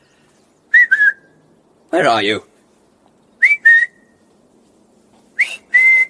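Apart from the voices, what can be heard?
person whistling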